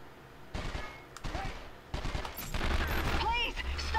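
Gunfire in the PlayStation 2 game 24: The Game, sharp bursts of shots starting and stopping in rapid clusters, mixed with game voices and shouting.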